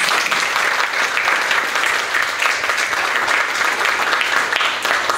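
Sustained applause from an audience at a Buddhist talk, dense and steady clapping filling the whole stretch without letup, fairly close and loud.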